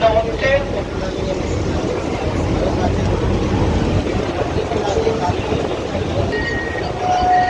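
An AC local train on the Sealdah–Ranaghat line pulls away, its steady loud rumble filling the carriage while people talk over it and a few brief tonal beeps sound near the end.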